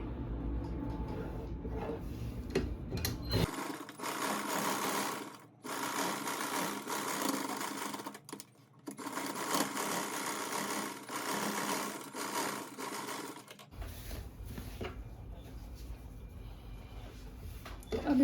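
A sewing machine stitches a kurti sleeve in bursts, whirring loud and close in two long runs separated by short pauses, with quieter handling sounds between.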